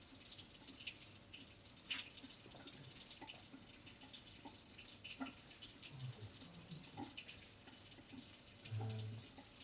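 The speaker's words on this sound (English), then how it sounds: "Try and rinse her off as quickly as possible" A tap runs steadily into a sink while an etching plate is rinsed after an aquatint bath in ferric chloride, giving a continuous faint splashing hiss with small drips and knocks.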